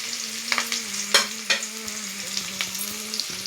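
Onion, green chili and curry leaves frying in a pan for a prawn fry, a steady close sizzle with a low hum beneath and repeated sharp stirring scrapes.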